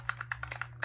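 Computer keyboard keys clicked one after another in a quick, fairly even rhythm, about eight crisp close-up presses over a steady low hum, with no talking.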